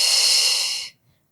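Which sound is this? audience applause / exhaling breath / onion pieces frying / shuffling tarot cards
exhaling breath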